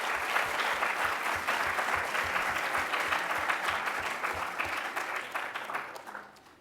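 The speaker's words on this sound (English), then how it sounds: "if I can ask a round of applause for our graduating class of 2023" A crowd applauds the graduating class of 2023 at a post-16 graduation ceremony, with dense, steady clapping that fills the hall and fades out near the end.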